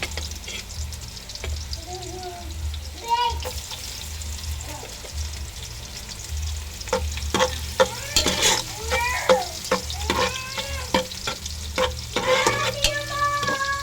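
Chopped garlic frying in hot cooking oil gives a close crackling sizzle, with a spatula stirring and clinking against the pan in bursts, louder toward the end.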